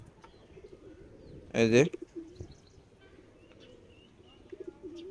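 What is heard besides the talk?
pet pigeons cooing after feeding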